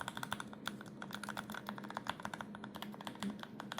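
Rapid, uneven clacking of keys on a custom-made computer keyboard, soft and close in a quiet room, with no voices.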